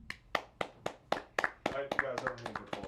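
Finger snaps given in place of applause on a football talk show: a quick, steady string of sharp clicks about four per second, close and fairly loud, with a voice murmuring underneath.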